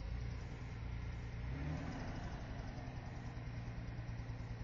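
A truck engine idles steadily and faintly at a distance, with an even, low rumble and no talk.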